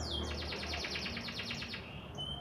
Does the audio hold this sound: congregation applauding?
no